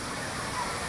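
Falls Park in Sioux Falls gives a brief, steady rushing roar of waterfall and upstream whitewater, a continuous broadband wash with no clear individual splashes.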